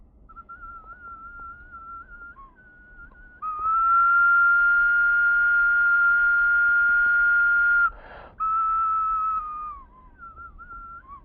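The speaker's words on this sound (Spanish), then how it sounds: "estos silbatos que dan origen a la botella Silbato de agua" A replica ancient clay whistling water bottle gives a steady, piercing whistle, long and even, pausing briefly with a breathy rush before sounding again and trailing off.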